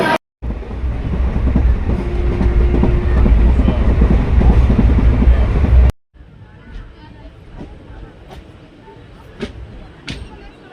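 A train from Madurai to Rameswaram rumbles loudly on the rails for several seconds, then cuts abruptly to a quieter stretch of distant rail noise with sharp clicks.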